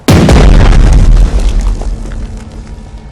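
Naval guns fire in the Pacific war strategy game Strategic Mind: The Pacific, giving one loud, close, deep boom with a sharp attack that decays into a rumbling tail over a few seconds.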